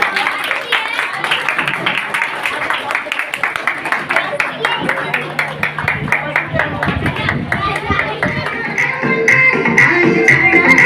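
Applause breaks out for an elderly dancer at an old age home in Nihal Vihar, Delhi, with scattered hand claps building into steadier clapping from a small group while voices chatter throughout.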